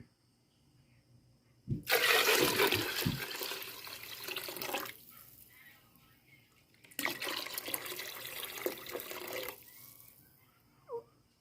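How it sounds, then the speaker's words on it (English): Water gushes from a tap into a pot in two bursts of several seconds each, with a quiet pause between and a small drip at the end. "So I'm going to add some water, only to half of the pot."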